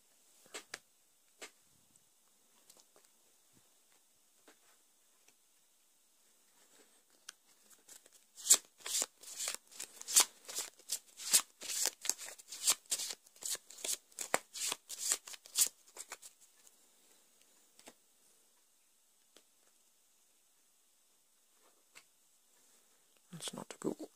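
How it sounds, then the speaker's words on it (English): Arkham Horror card game cards are shuffled in a long, close riffling burst of crisp flicks and slaps, preceded and followed by a few light taps in a quiet room. "Shuffle the encounter discard pile into the encounter deck."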